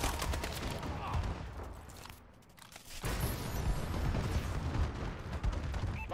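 Dense battlefield noise from an Advanced Warfare multiplayer match: a steady barrage of loud gunfire and heavy explosions from bombing runs and missile strikes, dropping briefly to a lull before the onslaught resumes at full intensity.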